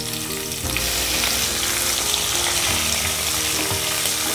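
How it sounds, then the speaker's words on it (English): Onions sizzling in hot oil with bay leaves and green chilies in a pan for matar pulao, a steady close frying hiss that jumps louder as the onions go in, with stirring. "in go the bay leaves, just stir it nicely, in go the green chilies, and then we add in the onions."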